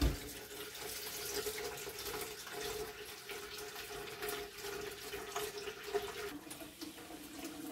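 Tap water pouring steadily into a pressure canner pot, a continuous hissing rush at moderate level with no speech.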